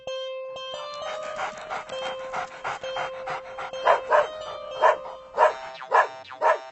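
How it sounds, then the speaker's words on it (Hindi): A dog named Kichu pants rapidly while digging at a spot in a farm field, then gives several short soft barks and whimpers up close, with no one talking. "क्यों भौंक रहे हो?"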